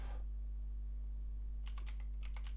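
Typing on a computer keyboard at a desk, a quick burst of light clicking keystrokes arriving after a quiet stretch with a low electrical hum, close and faint.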